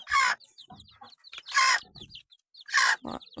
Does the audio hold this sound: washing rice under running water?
no